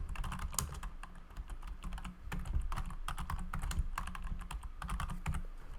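Steady typing on a computer keyboard while coding a Sudoku solver in Python, a brisk, close run of clicky keystrokes with brief pauses and no voices.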